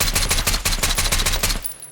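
A semi-automatic 7.62x39 rifle fires in the post-apocalyptic survival game Road to Vostok: about a dozen sharp, evenly spaced shots in quick succession, loud and close, ending in a brief quiet tail.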